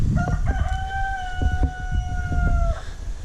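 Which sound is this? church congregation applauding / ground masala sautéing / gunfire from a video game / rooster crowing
rooster crowing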